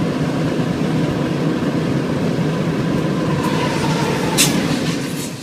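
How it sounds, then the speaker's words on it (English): A Union Pacific train on the mainline across Nebraska rumbles steadily and loudly close by, a continuous rolling roar of wheels and cars with a faint passing squeal near the end. "road trips are a lot more fun when you've got a busy railroad next to you, like the Union Pacific's mainline across Nebraska"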